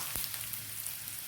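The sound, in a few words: tempering mustard seeds with grated coconut and curry leaves, frying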